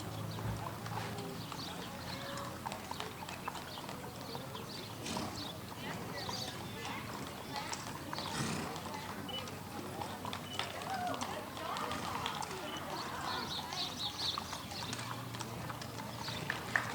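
Horse hooves clip-clop steadily along a street as a horse and carriage rolls by in a parade, with an occasional whinny, heard faintly under ongoing crowd chatter and talk.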